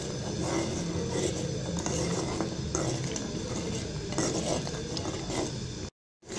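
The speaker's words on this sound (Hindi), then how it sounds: "अब इसका लगातार चम्मच हिलाते रहना है" A spoon stirs rice kheer continuously in a pot over a low flame, making a steady scraping, clinking churn that runs unbroken before a brief silence near the end.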